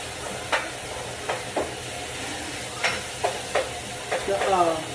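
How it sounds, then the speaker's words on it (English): Ground beef fries over medium-high heat in a pan with minced onion and garlic, its steady sizzle broken by several sharp scrapes and taps of a utensil stirring it. "Okay, now I'm mixing up the ground beef."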